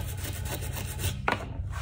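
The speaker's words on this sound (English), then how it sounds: "I'm just gonna kind of gently scrub under there." Gentle scrubbing under loose wood veneer on an old dresser where putty sits beneath, a soft close rubbing rasp with a brief sharper scrape near the end.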